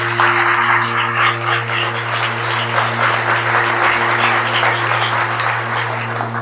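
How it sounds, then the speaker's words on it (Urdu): A church congregation at a Sunday service breaks into loud, dense applause that holds steady throughout, with a constant low electrical hum underneath. "زوردار تالیاں میرے تاکہ ذرا نیند کے جھٹکے ہٹے۔"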